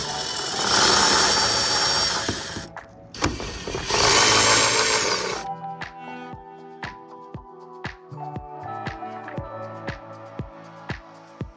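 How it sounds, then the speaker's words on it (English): Power screwdriver whirring in two bursts as it backs out T25 screws from the front side marker light of a Dodge Charger, followed by sharp metallic clicks and taps of parts being handled. "Use the screwdriver to remove both T25 screws."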